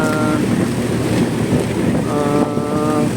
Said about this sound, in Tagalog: malakas ang hangin, malakas ang alon, kaya mabagal lang yung takbo namin